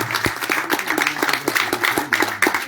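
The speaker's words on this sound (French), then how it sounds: "Je vous demande de l'applaudir bien fort" Audience applause in a Martinique radio studio during a filmed broadcast: a brisk run of hand claps, moderately close, with a faint tonal hum beneath and no voices.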